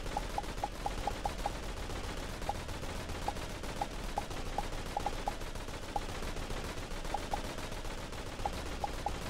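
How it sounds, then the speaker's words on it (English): Gunfire in the Aim Lab aim-training game, a long run of sharp, evenly paced single shots, some in quick clusters, over a steady low background hum, with no talking. "Sorry about the gun noises"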